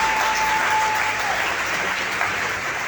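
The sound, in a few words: audience applause for the Holy Spirit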